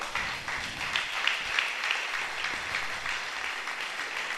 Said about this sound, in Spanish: ¿Cuántos pueden brindarle un fuerte aplauso al Señor?